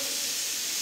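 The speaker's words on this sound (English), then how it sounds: "You can see the steam coming out from the boiler." Steam escapes from a laboratory boiler rig used for condensation tests, a short, steady, loud hiss that fills the whole moment.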